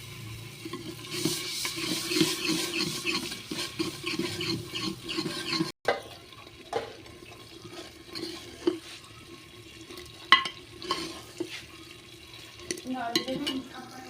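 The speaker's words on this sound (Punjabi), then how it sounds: "ਆਪਾਂ ਜੀ ਚੰਗੀ ਤਰ੍ਹਾਂ ਨੂੰ ਮਿਕਸ ਕਰ ਦਾਂ" Gobhi pakora curry with a spice mixture is stirred in a pan, a busy sizzle and scraping at first, then after a brief cut softer stirring knocks and scrapes with occasional clanks.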